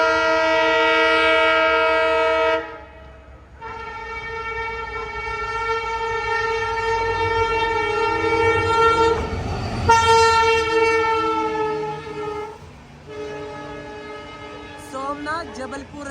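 The Somnath Jabalpur Express passes without stopping. A loud, sustained train horn sounds twice with a pause between, over rolling rail noise and faint clickety-clack.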